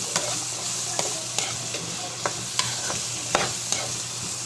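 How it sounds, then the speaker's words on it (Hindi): Chickpeas frying with garlic in a pan sizzle steadily, while a spoon stirs and scrapes the pan in short, regular strokes, close and clear with no voices. "यहाँ चने जो है ना लहसुन में भून रही हूँ मैं।"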